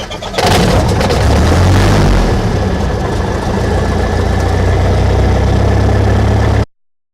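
A Cessna 172 Skyhawk four-seat light aircraft with a 180-horsepower engine cranks and fires, then settles into a loud, steady, throbbing idle heard up close until the sound cuts off abruptly near the end.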